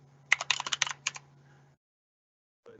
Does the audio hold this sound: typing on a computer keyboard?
yes